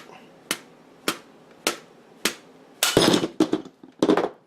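Back of an old hammer striking a part of a Ruger MK2 pistol on a table, five sharp metallic taps at a steady pace followed by a louder cluster of harder, rattling blows.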